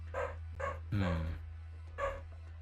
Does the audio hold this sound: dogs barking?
yes